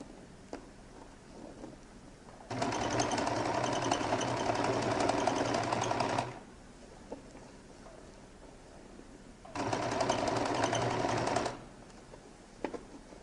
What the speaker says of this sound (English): And now begin to stitch till I get to the end, or at least as close as possible to the end.